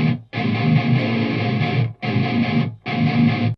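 Heavily distorted electric guitar chords ring out in three sustained bursts with short silent gaps, captured with a roomy, slightly distant tone.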